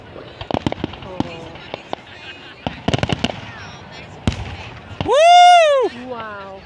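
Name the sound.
fireworks on bonfire night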